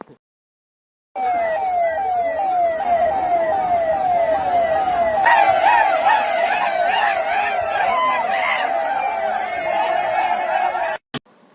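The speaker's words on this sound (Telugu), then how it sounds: "పోలీస్ సైరన్ మోగుతుంటే చిల్ అవ్వడానికి ఏ మ్యూజిక్ అయితే ఏంటి" A police siren wails loud and close in rapid rising-falling sweeps, joined midway by a second overlapping siren tone, then cuts off abruptly.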